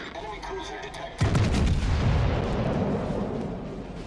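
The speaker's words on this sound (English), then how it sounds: "Full volley this time." A British cruiser in World of Warships fires a full gun volley: one loud, heavy booming blast arrives after a quieter opening, then rolls off into a long rumbling decay.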